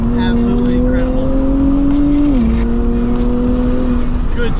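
A Nissan Z NISMO drives along with a steady, loud engine drone whose pitch holds, then drops briefly as it shifts, over constant road noise inside the car.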